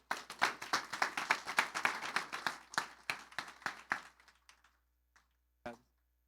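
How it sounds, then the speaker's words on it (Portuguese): Church congregation clapping and applauding in praise during a service: a dense burst of many hands that gradually thins out and fades over a few seconds, followed by a few isolated claps. "Você pode aplaudir o Senhor"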